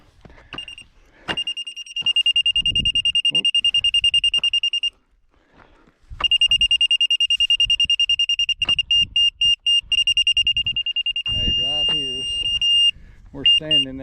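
A stock tank water level indicator gives a loud, steady high-pitched electronic beeping tone in long stretches, breaking into rapid pulsed beeps, with brief pauses and some background voices.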